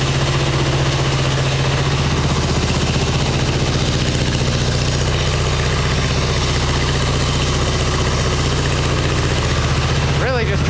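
A 1989 Harley-Davidson Ultra Classic Tour Glide bagger engine idles steadily and loudly up close while warming up without choke, a constant low rumble throughout.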